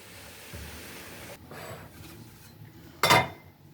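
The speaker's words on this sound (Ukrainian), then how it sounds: "Водичку з картоплі стіжуємо повністю до кінця." Cooking water poured off boiled potatoes for a potato pie, a low steady rush building to a loud, sharp splash and clatter near the end, with faint dish clinks.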